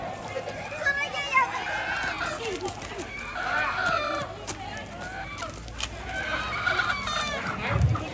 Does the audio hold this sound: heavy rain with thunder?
no